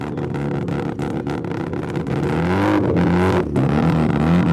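A car engine idles roughly at a car meet, then revs up in rising, throaty pulls, loud and close, with pitch climbing and dropping between revs.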